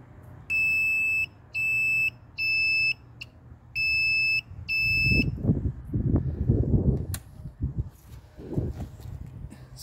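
Indicator buzzer on a fully restored Suzuki RV125 motorcycle gives five clear, evenly spaced electronic beeps, loud and close, then stops as louder rumbling handling noise and knocks take over.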